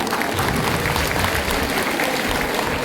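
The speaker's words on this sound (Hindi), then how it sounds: "आप अपने लिए बहुत जोरदार तालियां बजाएंगे।" A packed school hall applauds at a school annual function, a dense, steady wash of clapping from a large audience that holds loud and even throughout.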